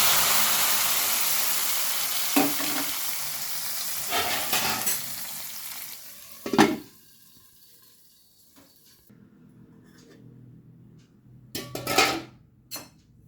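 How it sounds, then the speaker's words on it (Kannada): Hot tempering being poured into jackfruit curry after the stove is switched off, with loud sharp sizzling bursts and spoon clatter against the pot, fading between splashes, no talk. "ಒಗ್ಗರಣೆಯನ್ನು ಸೇರಿಸ್ಕೊಳ್ತಾ ಇದ್ದೇನೆ"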